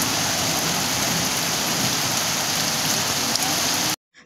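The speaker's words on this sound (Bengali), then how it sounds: "হাওয়াও দিচ্ছে তার সঙ্গে, আবার জোর বৃষ্টিও হচ্ছে" Heavy rain pours steadily and close by, a dense unbroken hiss driven by wind, before cutting off abruptly near the end.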